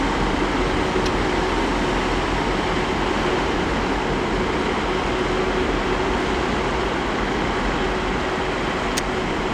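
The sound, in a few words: TransPennine Express train at Leeds station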